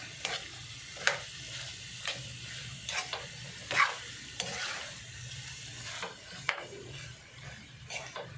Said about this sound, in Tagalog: Ito ako nagluto ko ng palaya.